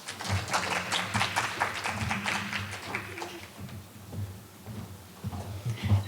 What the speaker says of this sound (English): Let's give a round of applause as she makes her way to the podium